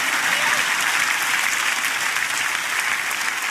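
A large church congregation applauds during a sermon, a full, sustained roar of many hands clapping evenly from start to finish.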